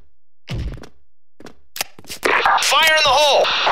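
A grenade thrown during a Counter-Strike style tournament match: a sharp thunk and crack, then a quieter knock, followed by a clattering burst of game noise while a voice calls out loudly.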